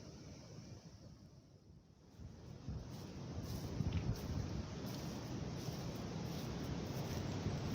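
Wind gusts and rumbles against the microphone in Kirton Wood, building from a quieter lull into a steady, blustery roar.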